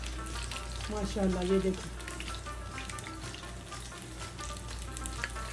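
Fish sizzles and fries steadily in a pan for a fish burger, a close, continuous crackle, with someone speaking briefly over it early on.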